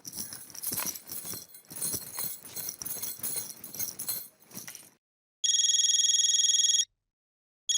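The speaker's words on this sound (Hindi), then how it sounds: "दया भाभी का फोन" Jangling, rustling handling noise fades out, then a loud electronic phone ring sounds for about a second and a half, starting again at the very end.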